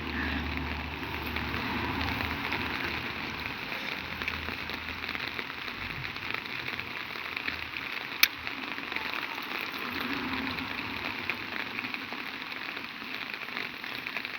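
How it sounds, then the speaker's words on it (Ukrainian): Steady rain pattering on surfaces, a continuous even hiss with one sharp tap partway through; no voices. "Полиє вже мої квіточки дощик."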